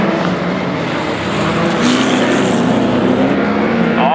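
A white Volvo 240 rallycross car at an ice racing event in Morjärv roars past with a loud, sustained engine drone whose pitch rises and falls as it goes by, under faint commentary.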